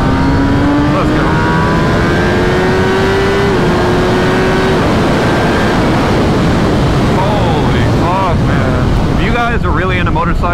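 A Kawasaki ZX-10R motorcycle engine while riding: a loud, close high-revving whine that climbs through gears amid heavy wind rush, with rapid rev swings toward the end.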